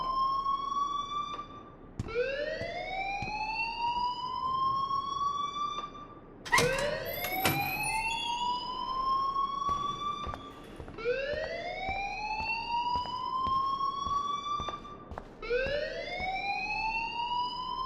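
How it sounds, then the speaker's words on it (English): A school fire alarm in the video game Life is Strange rings on its own in a steady repeating cycle of rising electronic whoops, each sweep climbing in pitch and then restarting, with a brief clattering burst partway through. "please turn off that alarm since that's your job"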